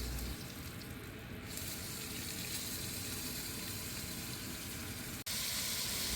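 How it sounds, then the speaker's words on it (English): Onions searing in beef juices in a pot, a loud, steady, hissing sizzle that fills the whole stretch, broken only by a brief dropout near the end. "now we're going to sear up the onions and the beef juices"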